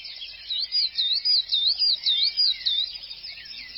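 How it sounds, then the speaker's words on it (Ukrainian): Birds sing outdoors in spring, a clear series of bright, repeated warbling chirps that rise and fall in quick phrases, close and loud against a quiet background. "Ми з вами чуємо спів пташок."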